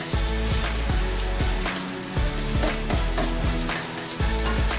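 Amatriciana sauce bubbling and sizzling in a pan, a close, steady frying crackle with rhythmic pops and faint stirring knocks, no voices.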